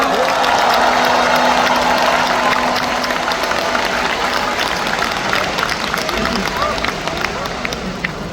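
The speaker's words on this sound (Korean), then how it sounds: "큰 박수 부탁드립니다." An audience at a Democratic Party leader's acceptance speech claps loudly and steadily, with crowd murmur mixed in. The applause eases slightly toward the end.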